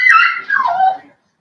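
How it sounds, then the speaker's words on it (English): A small dog whimpers in one drawn-out, high, descending whine that trails off after about a second, close and loud, heard alone indoors. "Sorry, it's my little dog."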